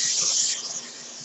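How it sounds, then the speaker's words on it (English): Axe body spray hisses from an aerosol can onto a shirt in one strong burst that quickly fades into a thinner trailing hiss, close and without talk. "Let me spray it on my shirt, okay?"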